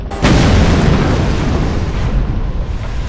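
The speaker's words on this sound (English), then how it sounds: "his transport is shot down with a missile" A missile brings down a transport craft in the 2005 shooter Pariah, setting off a sudden heavy explosion that starts with a sharp burst and rolls on as a loud, rumbling boom for the rest of the moment.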